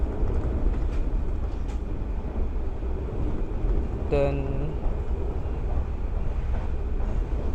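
Riding inside the Cakrabuana executive class train at night, a steady low rumble of the moving carriage fills the whole stretch, with a brief spoken word midway.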